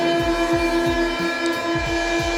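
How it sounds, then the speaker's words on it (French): A Paris metro train on line 3 bis, the city's shortest line, runs along: loud steady hum and whine with a rhythmic clickety-clack of wheels over rail joints repeating regularly, close and continuous, no talk. "Je vous présente la ligne de métro la plus courte de Paris"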